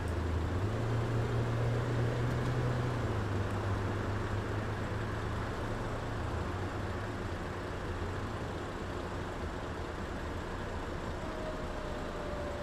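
A MAN A23 bus engine runs in the OMSI 2 driving simulator, giving a steady low drone with a slight shift in pitch early on, heard alone.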